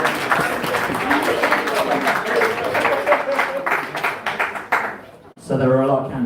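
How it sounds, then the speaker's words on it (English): An audience applauds candidates at a spring election results night, with loud, sustained clapping that carries on for several seconds before a brief lull and a burst of cheering at the end. "Big round of applause."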